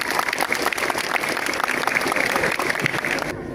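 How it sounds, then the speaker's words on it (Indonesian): Students at a morning school assembly at a textile vocational school clap together in a dense, steady burst of applause that holds evenly before cutting off at the end. "Tepuk tangan untuk kita semua."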